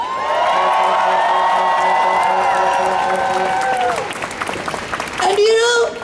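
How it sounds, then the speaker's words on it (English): A crowd at an outdoor protest rally against deportations cheers and claps loudly, with sustained whoops and shouting voices over the applause, the noise dipping briefly before a final swell of cheers. "let's give the workers at Amazon a big cheer and applause for their pray-in today"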